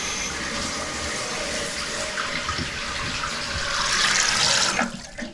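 Water rushing into a toilet tank from a newly opened supply valve during a DIY toilet install, a steady hiss that swells louder and then cuts off abruptly near the end.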